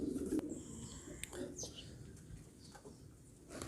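A female pigeon cooing softly nearby, low murmuring calls under faint background noise and a few brief chirps.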